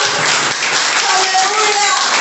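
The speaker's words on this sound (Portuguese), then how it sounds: "Aplaude o Senhor Jesus!" Church congregation applauding at a worship service, a dense continuous wash of clapping filling the space for about two seconds, with some voices mixed in and no break in the noise.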